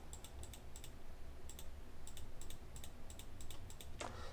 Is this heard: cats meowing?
no